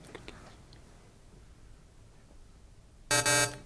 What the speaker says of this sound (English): That is going to be the game-ending buzzer.